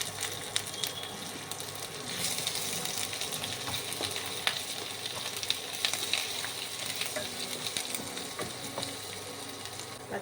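Ginger paste sizzling in hot oil for aloo dum, a dense continuous crackle that stays loud and close with frequent small pops and occasional stirring scrapes.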